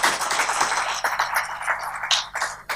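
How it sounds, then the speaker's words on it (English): Audience applause closing a Sunday evening talk on the art of being happy, a dense wash of clapping that thins out, leaving a few scattered, sharper claps near the end. "Again, one round of applause more."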